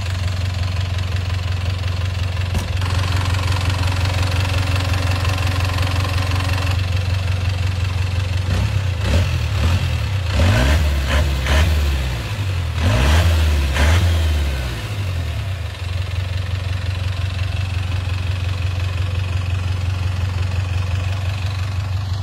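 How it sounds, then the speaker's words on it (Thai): A 1990s Isuzu TFR pickup with a twin-turbo engine idles loud and close. A steady low rumble runs throughout, broken by a few short revs in the middle of the clip. No one speaks. "ลองสตาร์ทหน่อยจะฟังเสียง"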